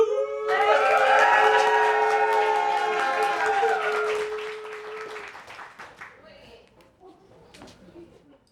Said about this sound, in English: please give a warm round of applause for Slim True